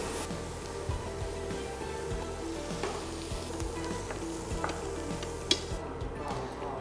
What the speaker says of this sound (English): now I will stir fry mushroom